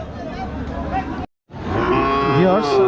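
Cattle moo loudly and close by at a border cattle market, one long low call, a brief silence, then another drawn-out moo rising in pitch.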